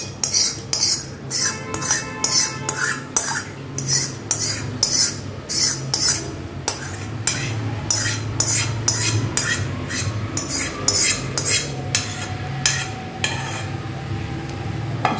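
A spoon scrapes mango mishti doi out of a metal kadai into a bowl, with repeated loud metallic scrapes and clinks in an uneven rhythm, close and clear with no talking.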